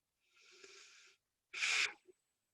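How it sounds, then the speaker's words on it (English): Two breaths during a quiet meditation and movement session: a long, soft, airy inhale, then a shorter, stronger, rushing exhale, close and alone against silence. "One more breath."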